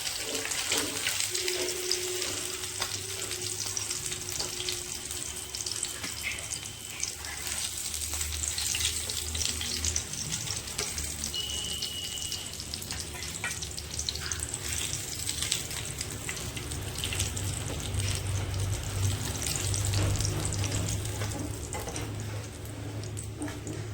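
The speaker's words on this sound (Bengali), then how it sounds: "মাছগুলো আমি একবার উল্টিয়ে নিচ্ছি, এবার হালকা করে ভেজে নেবো।" Fish frying in oil in a pan for a Bengali fish-and-potato dish, a steady close sizzle and crackle throughout with occasional faint clinks of handling.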